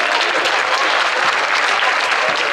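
A crowd at a regional music gathering in Châtillon-sur-Seine applauds a guest, with steady, dense clapping filling the space throughout, loud and continuous with no talk over it.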